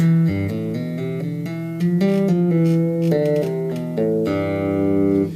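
A run of bass guitar notes stepping downward in quick legato hand-over-hand tapping pull-offs, played alone and closing on a longer ringing low open note.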